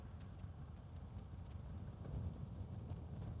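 Wind rushing past a Takyon Fusion 25RS electric scooter on the move, a steady low buffeting roar with small gusts and no talking.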